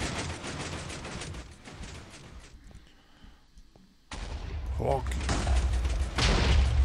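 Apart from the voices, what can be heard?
missiles exploding in Minecraft Missile Wars video game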